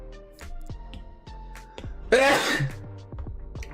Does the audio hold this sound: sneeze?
yes